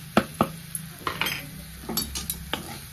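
A spoon stirs bitter gourd stir-fry with ground peanut powder in a metal pan, with several distinct clinks and scrapes against the pan over a faint sizzle, heard alone.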